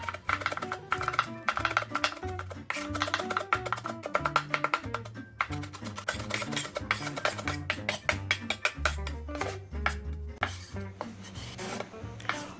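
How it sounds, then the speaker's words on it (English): A knife rocks back and forth through onion on a cutting board, making a rapid run of sharp rasping chops in uneven bursts, close and crisp, with no speech. "A few passes of the knife with a rocking motion, you will have finely chopped onions in no time."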